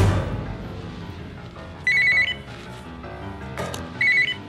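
A telephone rings in a business in two loud electronic trilling bursts about two seconds apart, over quiet room noise.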